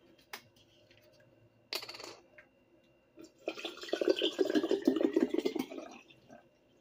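Water poured into a food-grade baking soda and salt mixture for a homemade mouthwash, a steady splashing trickle lasting about two and a half seconds after a few sharp clinks, close and clear.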